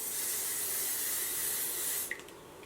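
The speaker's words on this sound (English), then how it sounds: "I'm not going to brush them, but I am going to spray them." Hairspray hisses from a can onto long hair in one steady, close spray of about two seconds, then cuts off abruptly into quiet.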